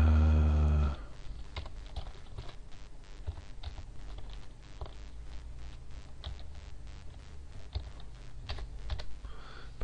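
A computer keyboard being typed on to enter a password: a rapid, irregular run of close, crisp key clicks that goes on steadily for several seconds, with a brief low tone at the start and no talk.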